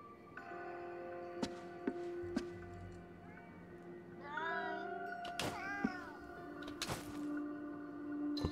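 A cat in the video game Ghostwire: Tokyo gives several clear meows with rising and falling pitch, fairly close, over quiet ambient game music with a few soft thumps.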